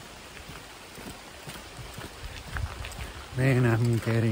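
Rain patters steadily around a walker in Glencoe, Scotland, a soft, close spattering of drops that grows slightly heavier, before someone speaks briefly at the end.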